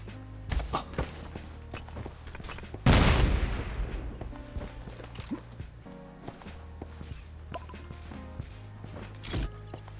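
Gunfire and footsteps in the video game Undawn: scattered clicks and steps, then a sudden loud burst of shots that fades into more steps and a sharp single shot near the end, with no voices over it.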